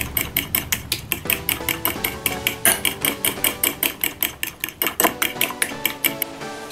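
Zucchini and chicken breast with grated garlic are mixed in a bowl for a spicy sauce dish, giving rapid, regular clinks and scrapes of a utensil against the bowl, fairly close and without talk.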